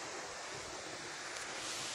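Waterfall about 35 metres high, heard as a steady, loud broadband roar of rushing water with no breaks, wind-like hiss filling the whole scene and no voices.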